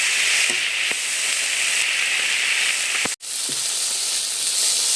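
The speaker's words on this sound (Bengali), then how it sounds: "চিংড়ি মাছটা দিয়ে এভাবে একটু নেড়ে চেড়ে নিচ্ছি।" Prawns sizzle and hiss steadily in hot oil as they are stirred in a pan for a Sundarbans river-fish dish, a loud continuous frying crackle with a couple of soft stirring knocks and one brief dropout near the end.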